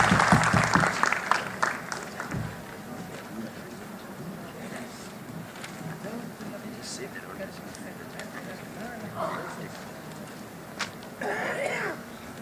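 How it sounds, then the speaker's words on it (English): Applause at the CITU 18th All India Conference inaugural session in Visakhapatnam as delegates accept a resolution; a loud burst of clapping in the opening seconds fades into murmuring crowd noise, with coughs and a brief swell of clapping near the end. "let us accept this resolution with thundering applause"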